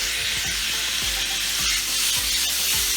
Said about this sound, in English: And I'm cooking that steak.